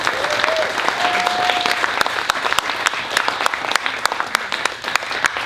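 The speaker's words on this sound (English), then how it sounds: "Please join me as I give a big applause for that, for his support." Audience applauding a speaker at an evening talk event, steady dense clapping with a few sharper claps standing out, sustained loud throughout.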